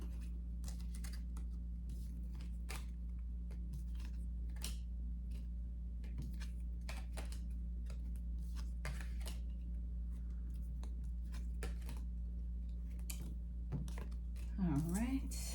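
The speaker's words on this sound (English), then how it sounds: "We are going to give these a bit of a shuffle." Tarot cards shuffled during a zodiac reading, heard as faint scattered ticks and soft riffling clicks over a steady low hum, fairly quiet throughout.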